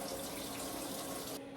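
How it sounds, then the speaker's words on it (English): Hot water gushes from a tap over a container, a loud, steady splashing rush that cuts off abruptly near the end. "I'm just gonna run this under hot water for 30 seconds."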